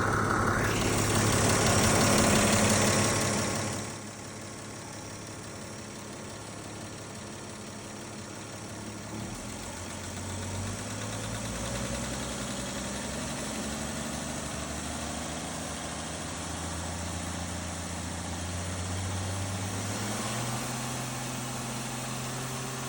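A Chevy 216 engine runs loud at first, then drops to a steady lower idle and rises again as it is revved up toward about 3,000, a continuous droning rumble close by with no talk.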